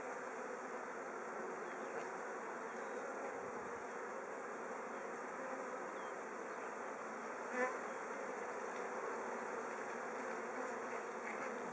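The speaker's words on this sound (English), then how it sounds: "A lot of buzzing of activity." A dense, continuous hum of honey bees buzzing inside a hive as a new queen is introduced, steady and close throughout with no voices.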